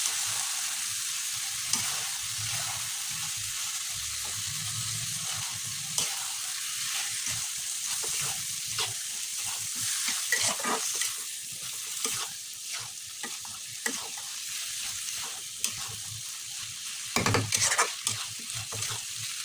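Potatoes and egg mixture being stirred in a hot frying pan, a spoon scraping and turning the food over a soft, continuous sizzle, close and fairly quiet.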